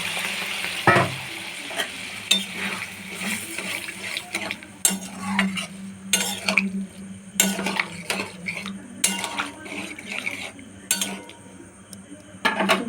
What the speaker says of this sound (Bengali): এই যে এবার আমি কাবলি ছোলাটা ঢেলে দেব।